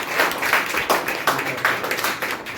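An audience at a motivational session claps in a rhythmic, unison pattern, regular beats repeating at a steady pace, fairly close and loud.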